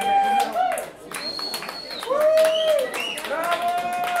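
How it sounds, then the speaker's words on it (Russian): Concert audience at a Moscow jam session applauding, a steady wash of clapping with piercing whistles rising above it, under a voice talking from the stage. "аплодисменты, ваши аплодисменты"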